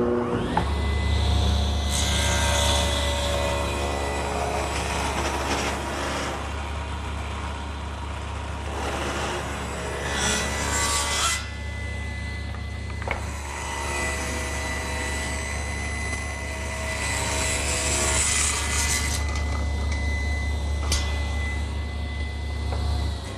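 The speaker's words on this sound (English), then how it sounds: "I'm going to start by taking this 3/4 inch cherry and ripping 1/8 of an inch" A saw rips thin eighth-inch strips off the faces of 3/4 inch cherry board, loud whining cutting passes in bursts separated by quieter idle stretches, three main cuts in sequence.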